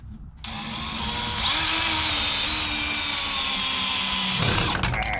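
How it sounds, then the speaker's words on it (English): A power drill drives big screws into wood while working on a tractor shed: a loud, close, continuous motor whine that rises in pitch as it bites and holds steady for about four seconds before stopping abruptly. "Put 2 more of those big screws in."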